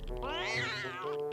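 A single drawn-out cat meow rises and falls in pitch, clear and close, used as a sound effect with no talking over it.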